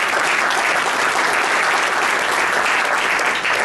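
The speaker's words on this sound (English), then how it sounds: "So let's give them all a round of applause." Dense, loud audience applause at a business diversity expo, a continuous wash of many hands clapping at an even level from start to finish.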